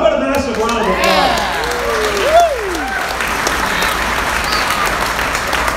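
A crowd at a Belleville Senators hockey jersey launch breaks into loud applause, with whoops and cheering voices rising and falling over the steady clapping.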